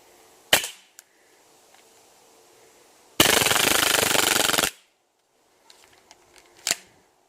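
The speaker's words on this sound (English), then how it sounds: "now we're going to see how well I can hold this thing on target in full auto" A KWA MP9 airsoft gun fires on full auto: a single loud crack, then a dense, sustained burst of rapid shots lasting about a second and a half, followed by a few faint clicks and one more sharp shot, all close-up.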